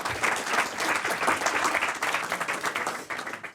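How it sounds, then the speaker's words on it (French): An audience at a sextech pitch event applauds a presenter with brisk, uneven clapping that carries on steadily throughout. "Oui, on l'applaudit, merci."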